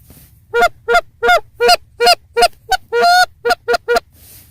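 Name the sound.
birds honking outdoors in the morning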